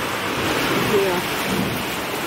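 Strong wind storm blowing outside a house at night during a power cut, a steady loud rushing roar filling the whole clip with gusty swells and no talk.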